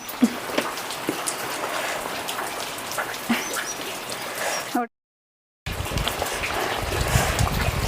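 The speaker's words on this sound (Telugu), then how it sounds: "ఇప్పుడైతే రెడ్డి గొడుగు పడుతూ ఉంది వాన్లో తడకుండా" Steady rain patters on a surface close by, broken by a brief silent gap before the downpour resumes, slightly heavier.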